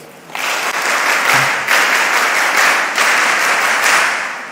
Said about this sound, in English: Mary's clap.